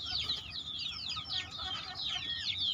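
Young chickens in a breeding pen keep up a dense, continuous chorus of high chirps and clucks, close and steady throughout with no talking.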